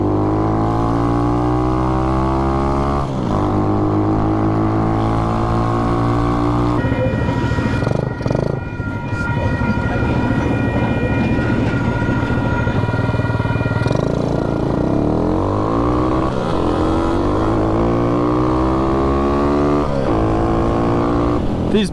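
A Honda Chaly 4MINI motorcycle rides and accelerates hard, its small engine revving up through the gears with rising pitch and dropping between shifts, loud and close throughout with no talk.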